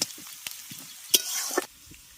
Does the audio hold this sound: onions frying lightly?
yes